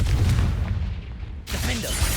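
A Confringo fire spell in Hogwarts Legacy bursts as a heavy, booming blast, with a deep rumble that cuts off abruptly and then a second thudding impact swells back in.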